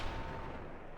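A booming, sustained report of a Thanatos sniper rifle shot in Payday 2 fills a single loud second.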